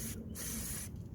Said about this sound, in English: Also we're gonna spray a little bit in this chamber.